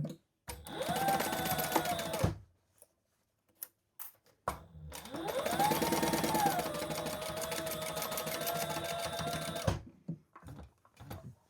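A sewing machine stitching in two long runs of rapid, steady mechanical whirring and needle clatter, close up, separated by a short pause, then falling quiet with a few clicks.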